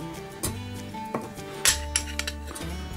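Butter pieces being stirred into a lemon sauce in a pot: a spoon scrapes and clinks against the metal in a few distinct knocks over a low, steady background, close by and fairly quiet.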